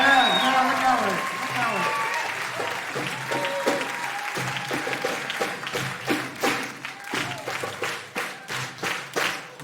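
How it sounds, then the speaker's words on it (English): Loud applause honors the youngest drummer of a Middle Eastern music ensemble at a spring concert. Drum hits and a fading sustained tone sound near the start, then claps build into a rhythmic, pulsing beat. "A special round of applause for our youngest, Ziad Marcus."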